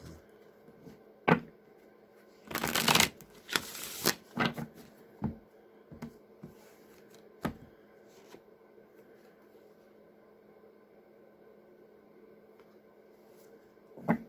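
A burst of riffling cards around the three-second mark, followed by scattered soft taps and clicks in an otherwise quiet room.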